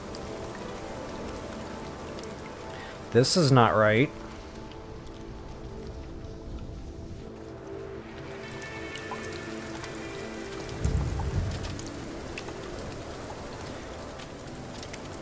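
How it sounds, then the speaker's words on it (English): Steady rain falls inside an underground base in the video game No Man's Sky, a continuous wash of patter under faint game ambience, broken by a brief sweeping chime effect and a low thump. "It's raining underground."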